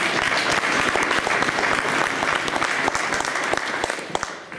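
An audience at a public discussion event applauds with lively, close clapping whose individual claps stand out, holding strong before thinning and fading out in the final half second.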